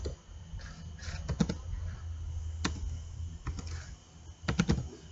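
Keystrokes click on a computer keyboard as Cisco router commands are entered in Packet Tracer, arriving in sparse, uneven bursts over a low room hum.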